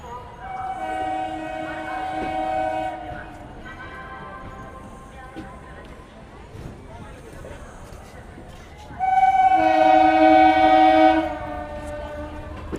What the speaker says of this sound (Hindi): ये कोई मेमू ट्रेन है। पूरी खाली आ रही है।